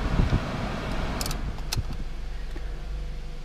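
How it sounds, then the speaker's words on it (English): A used Pontiac Vibe in good condition idling steadily up close, a low continuous engine rumble with a few light clicks and a brief jingle on top. "Vehicle starts right up."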